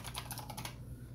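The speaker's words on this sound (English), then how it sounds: "We'll have to type our password because we're using sudo." Password typed on a computer keyboard during a Linux sudo command, a quick run of close, crisp key taps for about a second, no voices.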